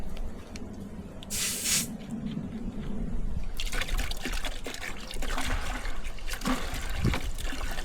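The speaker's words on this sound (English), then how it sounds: "Pour in the orange Fanta." Orange Fanta sprays and trickles steadily into a container, a short hissing burst early on, then a continuous fizzy pouring stream close by.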